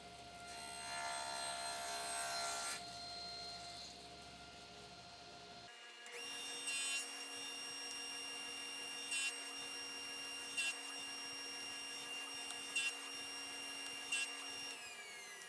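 A saw blade makes a small cut in wood, a steady mechanical whine with a faint rasping cut, shifting partway through, with brief louder bursts in the second half, no talk.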